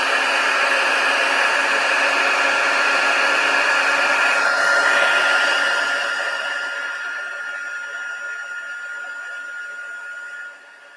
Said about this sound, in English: if you don't heat emboss it straight away, the ink can dry